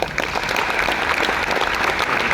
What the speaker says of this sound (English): So Chinedu, you deserve another round of applause.